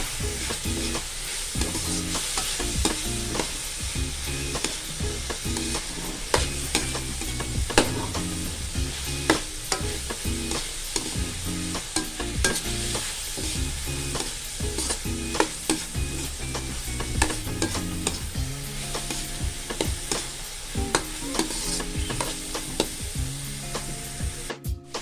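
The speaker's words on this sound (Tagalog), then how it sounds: "At atin lang siyang halu-haluin hanggang sa maluto." Ground meat seasoned with pepper and seasoning granules, frying and being stirred in a pan: a close, continuous sizzle with frequent rhythmic scraping strokes of the utensil, and no talking.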